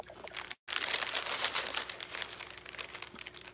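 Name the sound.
crinkling plastic bag of crackers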